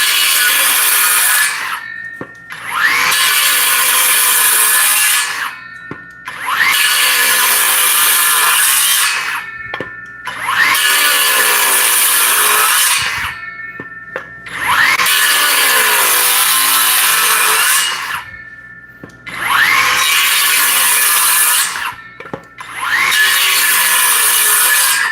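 A loud miter saw whines through wood in repeated cuts, about five bursts of several seconds each separated by brief pauses, close and harsh.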